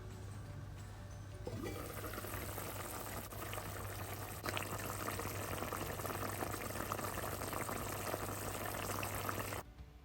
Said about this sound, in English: Did you hear the bubblation? Did you hear those bubbles coming through?